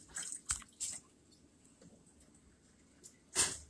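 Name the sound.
corn cobs rubbed by hand under water in a sink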